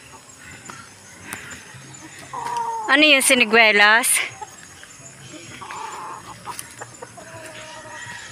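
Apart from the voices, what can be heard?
many chickens clucking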